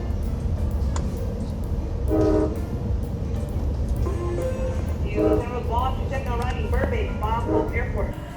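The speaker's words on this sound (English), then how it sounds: "This is an Amtrak operated train, which Metrolink passengers can also use." An Amtrak passenger train in Los Angeles rumbles past nearby with a steady low roar, while people talk in the foreground over it.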